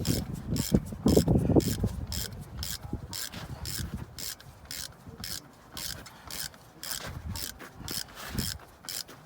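A ratchet clicks in rapid, regular bursts while tightening Allen head bolts with washers to draw a vehicle's unit bearing into place, with occasional rubbing and clunks of metal nearby.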